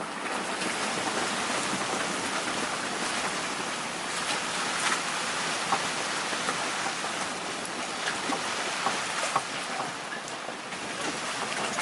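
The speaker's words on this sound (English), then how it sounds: "Yeah, we got some downpour, that's for sure." A heavy rain downpour hits a boat as a dense, continuous wash of hiss and splashing, even and fairly loud throughout with no voices.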